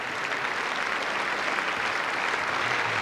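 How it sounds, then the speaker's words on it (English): A Conservative party conference hall, cabinet included, applauds John Major as he arrives to speak, a dense, loud, unbroken roar of clapping filling the room. "And the cabinet all applaud before he's uttered a single word."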